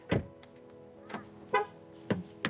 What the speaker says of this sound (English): that beep signifies that the car is turned on, or at least the aircon is turned on